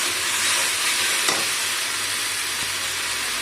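Masala frying in hot oil makes a loud, continuous close-up sizzle, with a brief stirring scrape partway through.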